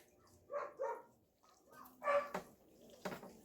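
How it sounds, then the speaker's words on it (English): A dog gives several short, close barks, spaced out in a few quick bursts at low volume in an indoor space. "this is Bernard the dog."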